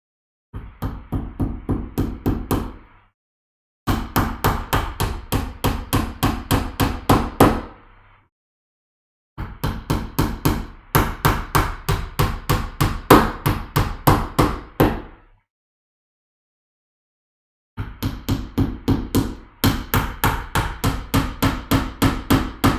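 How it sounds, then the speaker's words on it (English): Hammer driving nails while building gaming shelves, loud rapid strikes in four long bursts separated by short pauses, close and alone. "That'll be the end of the hammering."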